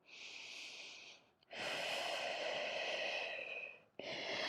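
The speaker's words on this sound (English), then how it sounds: "Take one more breath here." A long, deep breath is drawn and released during a standing Pilates balance stretch. Close, steady airy inhales and exhales run with a brief pause between them, and no one speaks.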